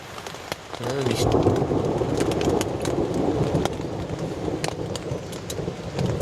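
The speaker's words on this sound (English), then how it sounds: "quite a loud rumble of thunder, sounded like it was right overhead" A deep, loud rumble of thunder rolls continuously close overhead at a wild campsite, mixed with steady rain and wind noise.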